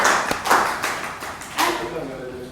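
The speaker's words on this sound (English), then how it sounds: "So a big round of applause." A few scattered hand claps at a Toastmasters club meeting, sounding as brief separate bursts close by, with people talking around them.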